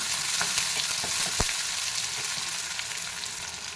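Onion, curry leaves and dried chilies sautéing in hot oil for a vendakkai gravy, a loud, even, crackling sizzle with a few light stirring taps, close and continuous.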